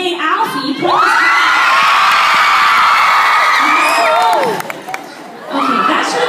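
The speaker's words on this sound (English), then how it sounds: "Okay, that should have been the loudest cheer if I'm being honest." A live theatre audience in Dublin cheers and screams loudly, with high-pitched whoops and shrieks sustained for several seconds, briefly dipping before a fresh burst of cheering rises again.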